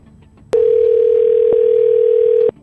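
A single steady electronic tone sounds for about two seconds, a loud, even pitch like a phone line tone, following a faint murmur.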